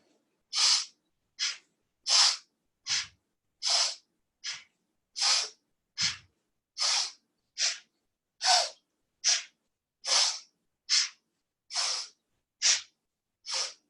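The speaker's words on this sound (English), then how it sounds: "Inhale, exhale." Rhythmic forceful breaths through the nose during a kundalini leg exercise: about seventeen sharp, hissing inhales and exhales at a steady pace, close and loud, with silence between them.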